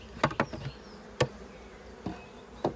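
Honeybees at an open double-brood nucleus hive: a few short, close buzzing passes and taps from single bees over a quiet background, with no talking.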